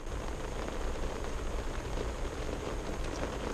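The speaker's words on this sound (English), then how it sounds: "That's the sound of the rain bouncing against all of my windows." Steady, dense patter of heavy rain striking home windows on a very rainy afternoon in Denver, a continuous hiss with no pauses, close and fairly loud.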